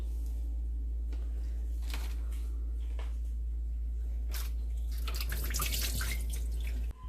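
Tap water running and splashing while peat moss is rinsed off the roots of bareroot perennials, steady flow with drips and splashes intensifying toward the end.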